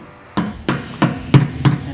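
A rivet nut is tapped into sheet metal with a tool while a fridge slide is being installed: five sharp, evenly spaced metallic knocks, close and loud, with no talking.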